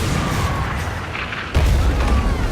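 Ship cannons fire in the pirate naval game Skull and Bones: a deep boom lands partway through, over a continuous rumbling game soundscape.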